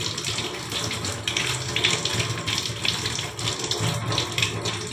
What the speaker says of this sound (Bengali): আমি আমগুলোকে ধুয়ে নিচ্ছি।